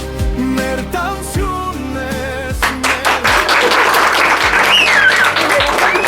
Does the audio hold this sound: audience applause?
yes